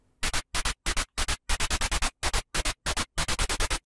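Short bursts of synthesized noise percussion with a short release hit in quick rhythmic succession, each sharp and abrupt with no tail, about twenty hits in a row.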